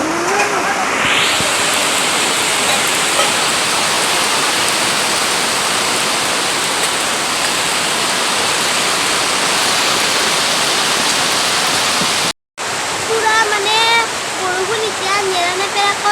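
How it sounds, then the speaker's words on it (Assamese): Heavy rain pours down in a steady, loud broadband roar for most of the stretch, briefly cut off near the end, with a voice talking over the downpour afterward. "চাওক ইমান ডাঙৰকৈ বৰষুণ দি আছে"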